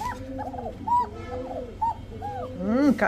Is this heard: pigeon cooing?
yes